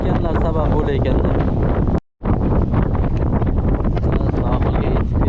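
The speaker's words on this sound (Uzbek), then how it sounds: "Sohilga yetib kelgan sarimiz juda ham shamol bo'lyapti" Strong wind gusting at a seashore in Denmark, loud and continuous with heavy buffeting on the microphone, broken by one brief cutout partway through.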